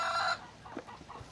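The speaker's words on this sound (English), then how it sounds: "I'm going to sneak around and see if I can chase the chicken out from this side." A farm chicken clucks in a few short, soft calls outdoors, fairly close, following a brief sustained tonal sound at the start; no one speaks.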